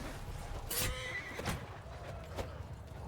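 A horse neighs in Mount & Blade 2 Bannerlord after being stabbed in battle; a moderately loud whinny rises mid-clip, followed by shorter cries and faint hoof clip-clop over a low background rumble.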